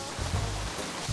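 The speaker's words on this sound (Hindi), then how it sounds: "यहाँ इतनी बरसात हो रही है" Heavy rain pours down in a steady, dense hiss with faint low rumbles, a continuous wash of sound with no voices.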